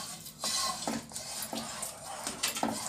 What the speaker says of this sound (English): Mix this nicely.